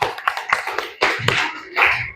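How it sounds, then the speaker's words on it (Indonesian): Classroom applause in short, uneven bursts of hand clapping from a group of students, close and fairly loud, lasting about two seconds. "beri tepuk tangan."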